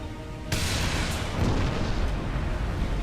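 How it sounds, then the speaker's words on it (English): In Allods Online, a cannon fires at a ship with one sharp, loud boom about half a second in, followed by a rumbling, noisy decay that lasts to the end. "I could fire this cannon several times at this ship until it hits."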